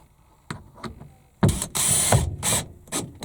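Screws being driven with a hand screwdriver while fitting out an Iveco Daily van, heard as short ratcheting clicks followed by louder, longer grinding bursts of turning, close up and without talk.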